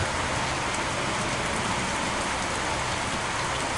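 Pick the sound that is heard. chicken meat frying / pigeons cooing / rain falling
rain falling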